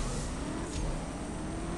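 Cars accelerate off the line at a race start in the CSR Racing video game, a steady, dense engine roar held close and loud for the whole stretch, with no voice over it.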